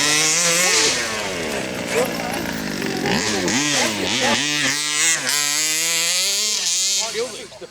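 A nitro-style RC car engine at a motor show display screams with a buzzy, high-revving exhaust note that rises and falls in pitch through sharp throttle changes, loud and close, then cuts off near the end.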